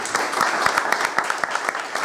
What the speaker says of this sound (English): Wasting time clapping.